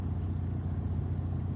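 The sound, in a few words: truck driving past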